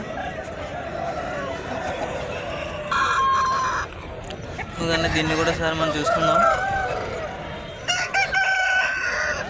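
Roosters at the Nallapadu chicken market crow loudly several times over a constant crowd din, while someone talks nearby.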